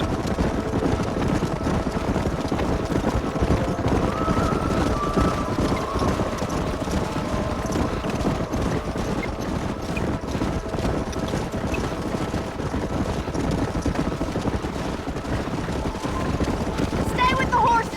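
Herd of wild horses galloping through a canyon in the Red Dead Redemption video game, a dense steady rumble of many hooves close by that continues throughout, with no talk over it.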